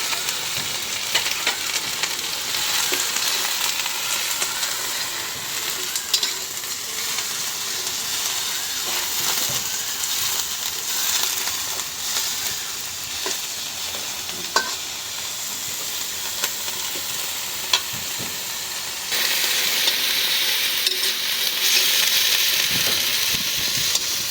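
Prawns and onion fry in hot oil with a steady, close sizzling hiss that lasts throughout, broken by occasional clinks and stirring.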